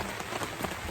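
Steady rain falls on a homestead under construction during initial land clearing, a dense, even patter of drops hitting surfaces close by, continuous and fairly quiet across the whole moment.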